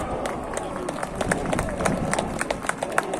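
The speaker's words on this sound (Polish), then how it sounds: "Wielkie brawa!" A large outdoor crowd at an Independence March rally in Warsaw applauds, producing dense, steady clapping with scattered sharper claps and crowd noise throughout.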